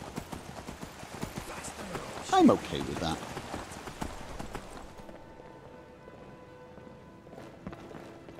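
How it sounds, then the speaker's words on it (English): Horse hooves clip-clopping at a walk while riding in Skyrim Special Edition, a steady rhythmic patter under talk, with a louder burst of voice partway through before fading to quieter ambience. "Am I lazy riding the horse from here to the gate?"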